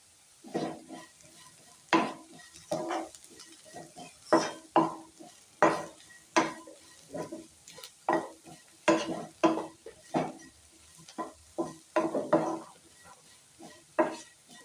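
A spoon stirs potato garlic fry in a pan seasoned with chicken masala and ground pepper, scraping in steady repeated strokes over a soft sizzle, close and fairly loud with no talking.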